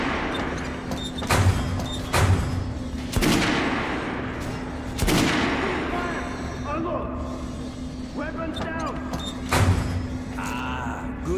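Gunfire in the video game Metro: Last Light Redux, with a few sharp shots and bursts spread over the stretch, mixed with game effects and voices talking.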